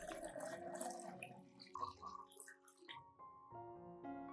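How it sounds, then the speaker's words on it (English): Clean water is poured into a rice flour solution to dilute it for an orchid fertilizer, a faint, close trickle of liquid with ringing tones as the container fills. "Add 500 milliliters of clean water to dilute the solution."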